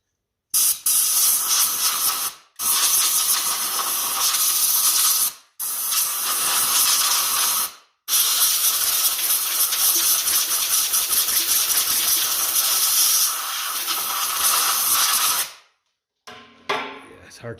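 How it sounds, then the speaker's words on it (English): Compressed air blows dirt from a 1968 Triumph T100C motorcycle fork leg: loud, close hissing blasts in long bursts with short gaps between them, then a brief clatter at the end. "It's hard to beat compressed air now for that kind of game."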